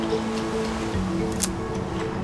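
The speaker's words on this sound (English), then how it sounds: "Inside, the sound of the ocean felt overwhelming" Ocean waves booming and washing inside small coastal caves on the South African shoreline, a steady low echoing roar with a soft surge near the middle, no voices.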